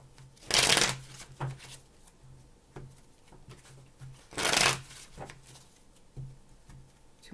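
Tarot cards are shuffled by hand in two loud riffling bursts, with softer taps and card handling in the quiet gaps between them, close to the listener.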